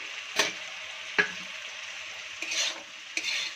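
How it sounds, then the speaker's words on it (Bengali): Vegetables sautéing in hot oil in a pan give a steady close sizzle, broken by a few sharp spatula scrapes and stirring knocks. "তো এবার এর মধ্যে আমি সব সবজিগুলো দিয়ে আর একটু ভালো করে কষিয়ে নেব।"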